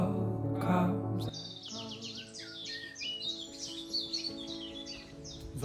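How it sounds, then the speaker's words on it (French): Several birds sing and chirp outdoors along a quiet stretch of Breton coast path, bright rapid warbling phrases repeating throughout after a brief low rumble at the start, with no talking. "Vous entendez les oiseaux là?"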